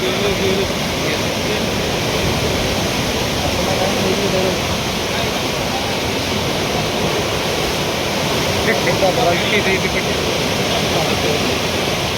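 Fast-flowing flood water sweeps across a road and carries away a large tree, a loud, continuous roaring rush that stays constant throughout.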